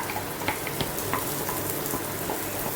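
Tomatoes tipped into a pan of ginger and garlic already fried golden, raising a steady, close sizzle with a few stirring scrapes; frying for palak paneer, no talk.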